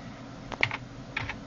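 A few quick keystrokes on a computer keyboard, soft close clicks in two small clusters over a low room hum.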